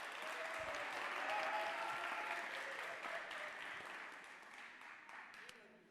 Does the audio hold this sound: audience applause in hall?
yes